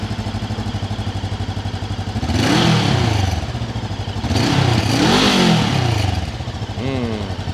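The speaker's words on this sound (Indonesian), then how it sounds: "Suaranya khas parallel twin ya. Mirip banget sama suara mungkin Honda Rebel atau CB500X." A Hunter Scrambler SK500 parallel-twin motorcycle engine runs close by, settling at a steady idle, then revving up twice in long swells before dropping back, with a brief blip near the end.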